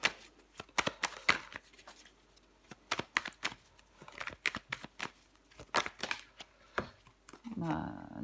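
Tarot cards being shuffled, flipped and laid down on a table, giving repeated crisp flicks and soft slaps in irregular bursts, with someone speaking over them throughout.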